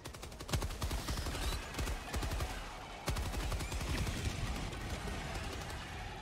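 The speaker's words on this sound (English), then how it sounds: "Oh, cannon's firing!" Rapid, dense bursts of gunfire and cannon fire in Helldivers 2 crackle continuously, a loud barrage with sharp heavy blasts standing out.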